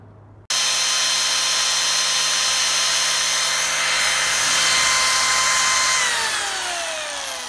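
A power drill polishing petrified wood whines loudly and steadily at close range after a sudden start, with its pitch shifting slightly near the end.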